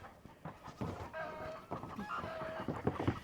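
A broody hen sitting on eggs gives short, soft clucks and low throaty calls, faint and close, scattered irregularly over a few seconds.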